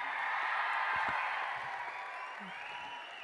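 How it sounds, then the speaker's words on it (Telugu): Audience applause at a film event for a director's coordinator: dense, sustained clapping that stays steady and fairly loud throughout, with a few scattered shouts rising from the crowd. "సో నా కోసం వీళ్ళందరికీ ఒక్క huge round of applause please"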